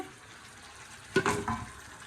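Greens drop into a pan of hilsa fish curry with a brief burst of sizzling and stirring, quiet and close, in an otherwise still kitchen with no talking.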